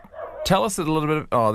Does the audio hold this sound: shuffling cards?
no